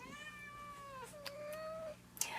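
Cats with herpes give a long, drawn-out meow followed by a second wavering one, fairly faint and close, in a quiet room.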